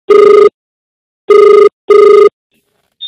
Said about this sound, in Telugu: నందిత గారికి ఫోన్ చేస్తున్నాడు రాజేష్.